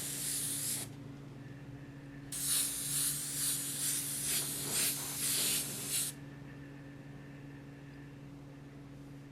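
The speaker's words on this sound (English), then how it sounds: "I'm only spraying at 25 psi" An airbrush sprays paint at 25 psi in a broad pattern for skin texture work, a steady close hiss that starts, stops, then returns in a longer burst of about four seconds over a low background hum.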